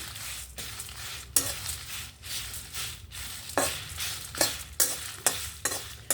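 Coriander seeds are dry-roasted and stirred in a pan with no oil, giving a steady dry rustling sizzle broken by repeated sharp scraping strokes of a utensil against the metal, with no voices.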